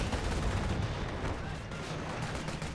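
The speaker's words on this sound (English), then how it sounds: "grenade launcher picking off" A grenade launcher and small-arms fire come from a World War II real-time strategy battle in Company of Heroes. The gunfire is dense and continuous, with rapid overlapping shots and bursts, and sits low in the mix for a few seconds.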